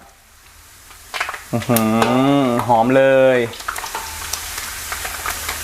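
Cut pandan leaves dropped by the handful into hot oil over medium heat, frying with a steady loud sizzle and crackle while someone speaks briefly over it.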